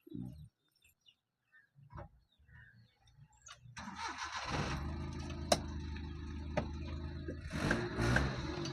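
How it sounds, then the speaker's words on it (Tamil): A Maruti Suzuki 800 car engine cranks with a few faint clicks and rattles, then starts and settles into a steady, close idle with a rough exhaust note, birds chirping faintly nearby. "அப்படியே இன்ஜினே ஸ்டார்ட் பண்ணி பார்த்துடலாம்."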